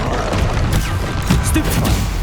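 The Bombarda explosion spell goes off in Hogwarts Legacy, a dense crashing boom with scattered debris-like cracks and thuds that continues for a couple of seconds at steady loudness, with no voices over it.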